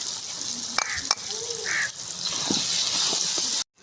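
Garlic sizzling in a frying pan while cooking masala fish curry, a steady close hiss of frying with small stirring clicks and a brief faint tonal sound, ending abruptly.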